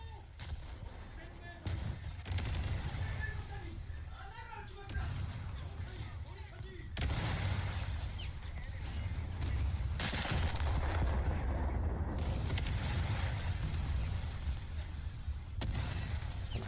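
Battleship naval guns firing in War Thunder, a series of heavy booming blasts with rumbling low tails spread across the clip, someone talking over them.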